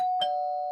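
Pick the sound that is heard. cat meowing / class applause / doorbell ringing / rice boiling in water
doorbell ringing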